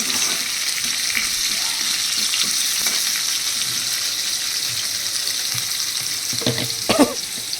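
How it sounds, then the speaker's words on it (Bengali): Potatoes frying in oil in a pan give off a loud, dense, continuous sizzle, with a few close scrapes of stirring near the end. "আলুটা ভালো করে ভাজা ভাজা হলে"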